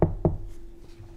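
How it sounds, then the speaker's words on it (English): Two quick, firm knocks on wood sound close by in quick succession, then a brief faint room tone follows with no talking. "Knocking on wood for you that everything works out."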